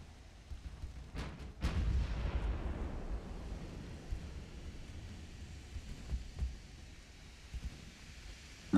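A warship's main guns fire a broadside in the naval game Ultimate Admiral: Dreadnoughts: two sharp booms followed by a long rolling, fading roar with scattered lower thuds afterward.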